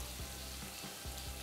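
Diced tomatoes and a splash of water hit a pan of lamb for a Turkish karnıyarık dish. The pan gives off a soft, steady, close sizzle with faint stirring bumps and no voices.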